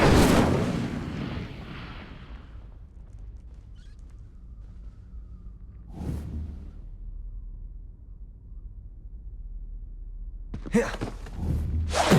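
Incendio fire spell cast in Hogwarts Legacy on Nintendo Switch: a loud whooshing burst of flame at the start fades over about two seconds, followed by a quieter flare-up midway and a pair of sharp impacts near the end.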